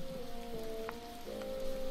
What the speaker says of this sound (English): we should get out of this rain because it's kind of wet